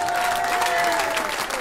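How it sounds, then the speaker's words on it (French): Steady, dense applause from a crowd at a 2020 campaign launch evening, loud and continuous throughout, with a faint sustained tone running underneath. "On applaudit Nathan Mathieu"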